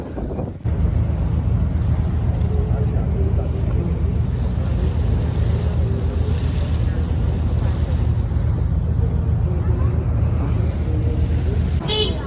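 A boat crosses a river toward Chinsurah on the opposite bank, its steady motor rumble mixed with strong wind buffeting the microphone and water noise, heard up close throughout.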